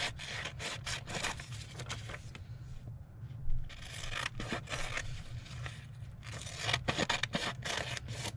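Rough scraping and rubbing of paper being cut or torn while making ephemera, continuous close rasping strokes with a brief quieter pause midway and steady low background hum.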